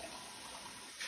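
A sink tap runs steadily while feeding syringes and tubes are rinsed, a continuous even hiss of flowing water with no voices.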